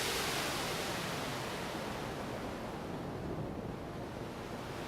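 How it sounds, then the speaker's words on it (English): Synthesized ocean waves from an ALT pin matrix analog soundscape synthesizer, a loud, broad wash of surf-like noise that swells and ebbs gently and fills the whole stretch without any voices. "to relaxing waves,"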